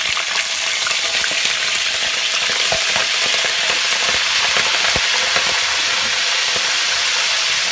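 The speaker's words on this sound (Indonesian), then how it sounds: "Ya ini minyaknya udah panas dan masukkan rajungan ke dalam penggorengan." Blue swimmer crab frying in hot oil in a wok, a loud, steady, close-up sizzle and crackle with scattered pops, heard alone without talk.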